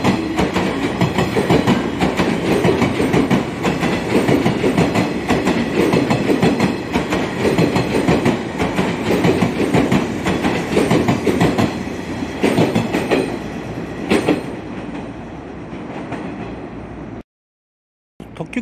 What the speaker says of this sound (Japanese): 草津線のね列車が来ました。